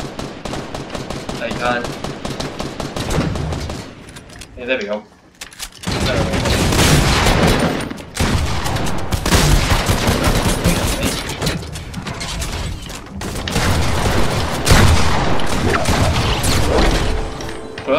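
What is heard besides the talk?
gunshots in video game Fortnite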